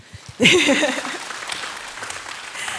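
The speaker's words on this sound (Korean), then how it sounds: "이때 박수 한번 주세요" A church congregation applauds during an all-generations worship service, a burst of clapping that starts abruptly and then thins out, with voices mixed into the noise.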